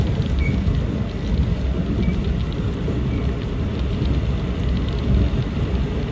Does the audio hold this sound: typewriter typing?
no